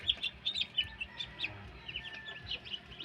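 Newly hatched chicks in a DIY egg incubator give quick, high-pitched peeps and chirps in overlapping bursts, faint and close by, with no talking.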